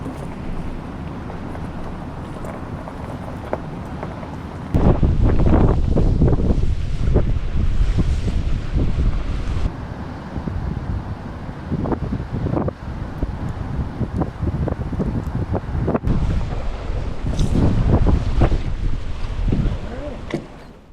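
Strong 30+ mph tailwind buffets the microphone on a river during a Montana fly fishing trip, a loud continuous roar with gusty swells and rushing water beneath, voices occasionally under it.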